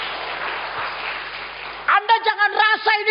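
Church congregation at a Sunday sermon breaks into brief, bright clapping after a speaking voice, a short burst of applause with rhythmic claps close to the microphone.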